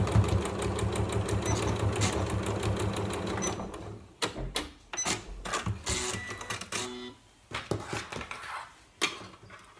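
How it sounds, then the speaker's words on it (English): A sewing machine stitches a straight seam through fabric for a storage caddy. One long steady whirring run is followed by shorter start-stop bursts of rapid mechanical clatter, heard close with no talking. "Now with the opposite side I'm just going to sew straight along."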